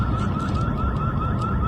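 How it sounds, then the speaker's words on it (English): A steady electronic alarm tone drones continuously over low rumbling background noise, sounding distant and unchanging. "that's a building alarm"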